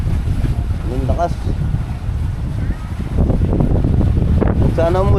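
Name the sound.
strong wind at sea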